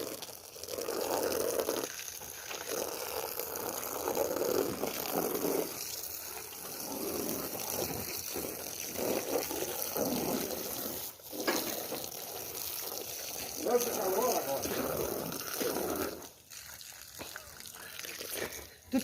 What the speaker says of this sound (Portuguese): agora pode botar pressão para lavar as bandejas